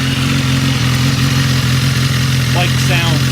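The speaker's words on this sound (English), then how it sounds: "Bike sounds awesome." A motorcycle engine idles loud and steady throughout, a close continuous throb, with a person talking briefly near the end.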